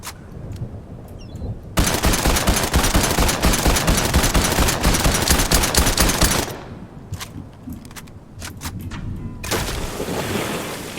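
Rapid automatic gunfire rattles continuously for several seconds in a Fortnite match, stops, then resumes in a softer burst, loud and dense with a wash of background noise.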